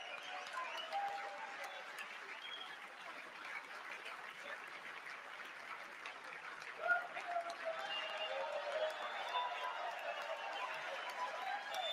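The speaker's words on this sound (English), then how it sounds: "pay attention to the boos in the crowd" A large crowd boos the president in a broadcast clip played back, a dense, continuous roar of jeering voices that swells slightly toward the end, heard somewhat distant and muffled.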